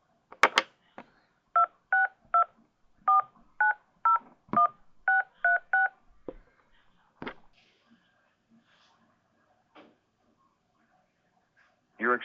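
Touch-tone keypad beeps on a telephone line enter a ten-digit number during an automated tipline menu, ten clear evenly spaced tones in quick succession, followed by a few faint clicks and a brief pop.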